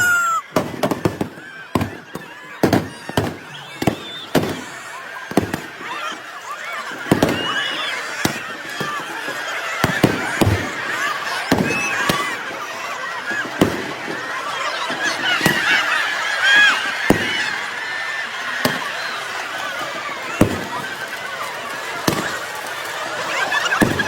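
Fireworks explode at a football tournament: a long run of sharp, loud blasts and crackles comes in irregular bursts, some rapid and clustered, others spaced apart, over a steady background hiss.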